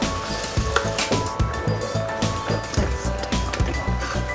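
Mutton pieces hit a hot pot for haleem and sizzle steadily and loudly, with rhythmic scraping and stirring thumps recurring about twice a second.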